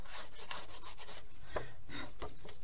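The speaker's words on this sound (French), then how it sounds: "on va tirer des petits bouts à la lime à ongles" A nail file rasps back and forth against the edges of rubber stamps in quick, continuous strokes. The sound is close and fairly faint.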